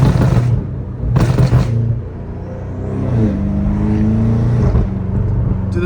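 BMW M5 Competition with a loud exhaust driven on open roads, engine roaring with two sharp crackling pops early on, then a steady droning rumble as it cruises, close and loud.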